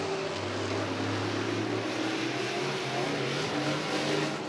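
Sportsman race cars circling Rockford Speedway during a feature race, their engines blending into a steady, loud droning roar with a sustained pitched hum and no voice over it.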